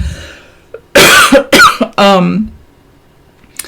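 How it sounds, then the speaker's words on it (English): A few sharp coughs in quick succession, close and loud, followed by a throat-clearing rasp, then quiet. "I'm going to cough"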